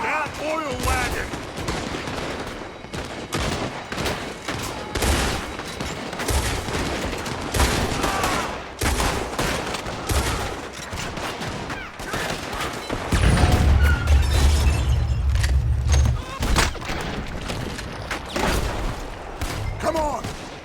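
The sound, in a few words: gunfire in the video game Red Dead Redemption 2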